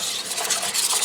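A whisk scraping continuously across the flat bottom of a heating saucepan, a steady close rasping and rubbing sound with no talk.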